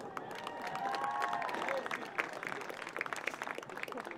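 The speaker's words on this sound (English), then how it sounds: "Let's give a round of applause for our 10th seniors." Crowd applause in a college football stadium honoring seniors, distant and diffuse over a public-address reverb tail, with scattered claps and faint cheering continuing throughout.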